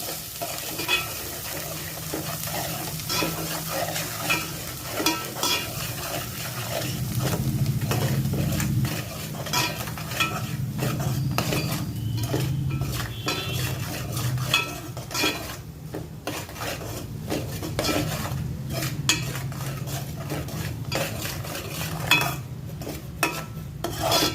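Prawns stir-fry in a pan with gongura leaves, a steady close sizzle under constant scraping and clinking of a metal spoon against the pan.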